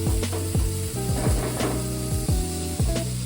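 Spice masala sizzles and crackles loudly as it fries in a pan, with steady hissing and several sharp scraping stirs at a fairly regular pace, close and with no talking.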